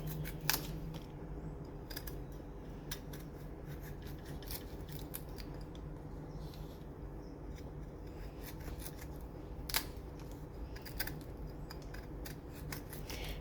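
A jackfruit is cut at home, giving faint, scattered sharp clicks and snips over a low steady background hum, with a few louder cuts standing out.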